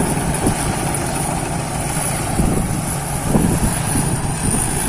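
Steady loud engine drone of a Thai Seng Yont combine harvester working a rice field in the afternoon, continuous mechanical roar with a high whine and no speech.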